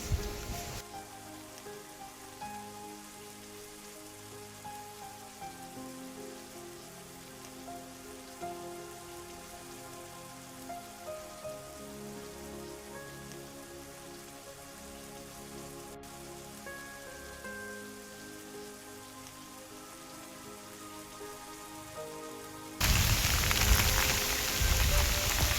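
Heavy monsoon rain pours down in the hills around Sakleshpura near Bisle Ghat, a dense, steady hiss of drops on surfaces throughout, swelling into a louder, closer roar near the end.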